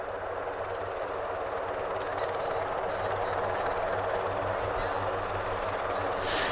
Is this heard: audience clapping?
no